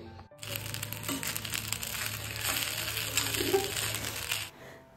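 Leftover cooked rice frying in a pan with chopped potato, onion and shelled peas, a steady broad crackle and sizzle running close and continuous for several seconds before stopping abruptly.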